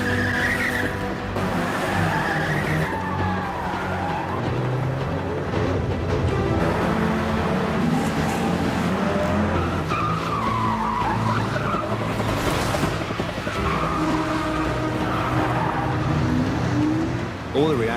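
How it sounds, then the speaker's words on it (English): A car spins through repeated handbrake turns during a stunt drive on Paris streets, tires skidding and squealing over a steady engine roar that fills the whole stretch, with voices shouting and talking inside the car throughout. "we are spinning around doing handbrake turns"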